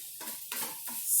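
Sausage sizzles in a frying pan as it browns for a sausage and bacon soup, with short crackling bursts and soft scraping or stirring, all quiet and close.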